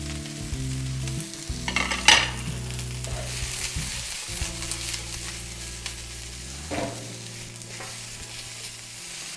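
Broccoli and carrots stir-frying in a pan for kimchi fried rice keep up a constant sizzle, with a louder burst of pan clatter around the two-second mark and another shift near seven seconds; no one speaks.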